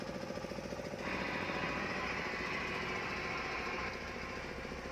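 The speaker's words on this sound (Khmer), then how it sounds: "ម៉ាស៊ីននេះស្ងាត់អណាស់ បាទបញ្ឆេះហើយមានលឺសំឡេងសមផងឡាននេះបាទ" A 1997 Honda CR-V engine turns over and settles into a steady idle, a rhythmic mid-pitched knocking chug that grows slightly fuller after the first second and runs on evenly, close by.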